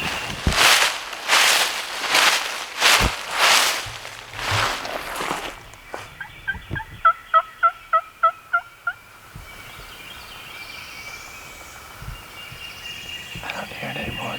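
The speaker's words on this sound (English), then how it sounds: "The bird that we've been kind of after all morning just gobbled again." A wild turkey gobbles outdoors during a Tennessee turkey hunt, a loud burst of rapid rattling gobble calls with several echoing repetitions, preceded by rustling footsteps through brush.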